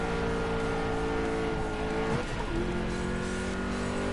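A Ferrari 458 in the GT Sport racing game drifts, its engine droning steadily as a tire squeal rises and bends around the midpoint, loud and continuous with no talk.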